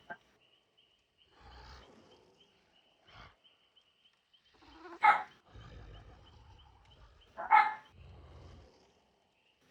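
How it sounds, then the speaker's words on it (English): Dogs bark in a few short bursts, two sharp louder barks standing out amid quieter sounds and pauses, heard indoors behind gameplay of a dark online horror game. "Why are my dogs barking now?"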